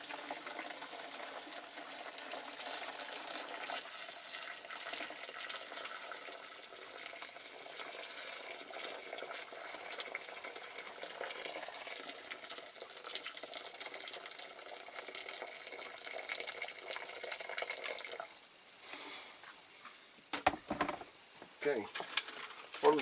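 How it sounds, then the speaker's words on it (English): Hot water runs steadily into a caustic soda bath holding stripped parts from a Dinky Toys 968 BBC TV Roving Eye diecast vehicle, a continuous close gushing that thins and breaks into splashes near the end. "the parts are in the bath, in with the hot water."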